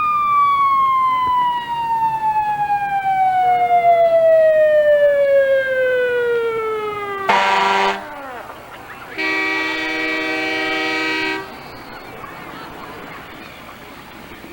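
Fire engine and ambulance sirens sound near the front of a 1996 grand parade in New London: a loud, slowly falling wail gives way to short blasts of a deep horn, then a long sustained horn blast, all close and strong over crowd noise.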